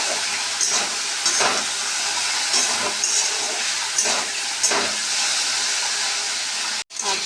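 Sliced okra fries in a pan for a Bengali vegetarian meal, giving a steady close-up sizzle and hiss broken by a few soft stirring scrapes, with a brief dropout near the end.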